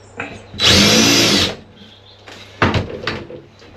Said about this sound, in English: If you haven't got one, just get a big drill.